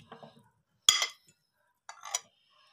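Potatoes go into a bowl while dahi bhalla is being prepared, producing two brief clinks of utensil against dish in an otherwise quiet kitchen.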